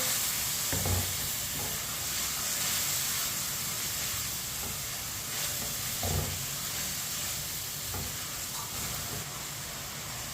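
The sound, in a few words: spinach frying and being stirred in a pan on medium heat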